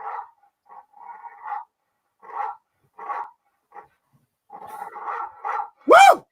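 A recording of dogs barking is played: a series of short, separate barks and yelps spaced out over several seconds, ending with a louder rising howl-like cry.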